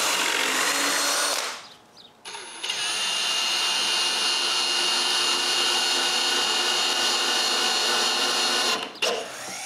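A power drill drives screws to join blocks of wood, running as one steady loud whir for several seconds after a short pause, close by and alone.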